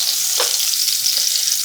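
Turkey burgers fry in a pan with a steady, loud sizzle that runs without a break, with a faint shift or scrape partway through and no voices.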